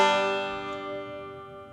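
A single plucked banjo chord ending a lick rings out and slowly decays, bright twangy harmonics fading over a couple of seconds with no voices.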